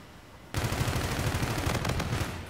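Automatic weapon fire in the futuristic shooter Call of Duty: Infinite Warfare erupts suddenly after a quiet moment. A sustained, rapid, dense burst of shots continues for about two seconds and then tapers slightly.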